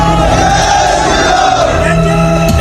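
Crowd of protesters at a street protest, a dense, continuous roar of many voices shouting together, loud and steady throughout with no single voice standing out.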